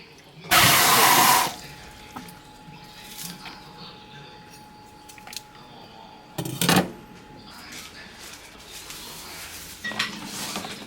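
Items are washed under running water while cooking at a garden campsite, with two loud bursts of gushing water and faint clinks and handling sounds in the quieter stretch between them.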